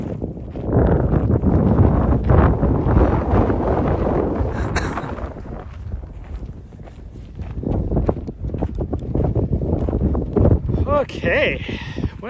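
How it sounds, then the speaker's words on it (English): Strong wind buffets the microphone outdoors during a recovery walk after a 250-mile race, gusting loudly under people talking along with occasional footsteps. "It's supposed to be so windy."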